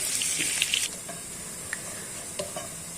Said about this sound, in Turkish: Ve soğanlarımızı kavuralım.